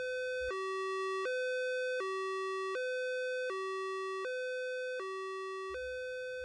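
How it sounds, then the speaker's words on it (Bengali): Ambulance siren at night, a loud two-tone wail alternating evenly between high and low pitches and holding steady throughout, with no voices over it. "আর প্রায় রাত 10টা নাগাদ অ্যাম্বুলেন্স আসে।"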